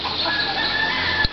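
Chickens clucking steadily near a horse being saddled, a dense, close chorus of fowl calls with a brief thump near the end.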